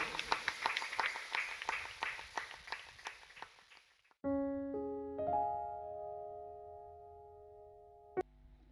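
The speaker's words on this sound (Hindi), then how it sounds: "आइए हम लोग जोरदार तालियों का एक अर्पण देंगे प्रभु यीशु मसीह के लिए।" A church congregation claps for about four seconds, many hands in a fast, loud patter, then the applause stops and sustained music follows with no clapping.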